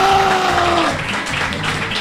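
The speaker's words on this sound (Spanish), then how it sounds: "¡Un aplauso!" Studio audience applause swells, with steady dense clapping and crowd noise from close by, while a host's voice and a brief musical tone fade out at the start.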